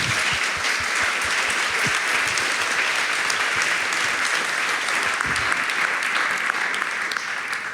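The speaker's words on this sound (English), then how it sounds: "Give them both a very warm applause." Sustained, steady applause from a festival audience at Brainwash Festival closing a talk by Glenn Albrecht and Evanne Nowak; dense clapping fills the whole stretch without a break or any voices.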